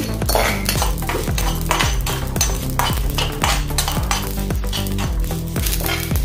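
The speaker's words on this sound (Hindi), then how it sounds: "और लाल मिर्च है सूखी वाली वो डाल देंगे 4-5। इसको भी अच्छे से हम थोड़ा भून लेंगे।" Four or five dry red chillies with cumin roasting in a pan: a loud, continuous sizzle with repeated rhythmic scraping and clinking as the spices are stirred close up, and no voices.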